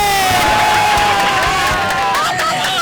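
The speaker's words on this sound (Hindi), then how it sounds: "तालियां हो जाए पाकिस्तानी मैकेनिक के लिए" A crowd cheers and whoops loudly and steadily for a Pakistani mechanic, with shouts and babble mixed into the roar, close and continuous.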